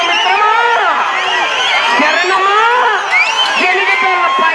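A crowd at a bull-pulling contest in Nandyal roars continuously, with loud overlapping shouts, whoops and shrill whistles rising and falling close by for the whole stretch.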